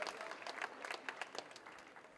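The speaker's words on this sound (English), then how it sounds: "Let's give them a big round of applause" Audience applause at an awards ceremony in a hotel, a burst of many hands clapping in a quick irregular patter, fairly faint and distant throughout.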